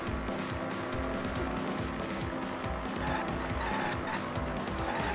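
Cars in traffic in Danganronpa V3 produce a continuous engine drone with repeated rising and falling revving tones and some tire noise, steady and fairly faint throughout.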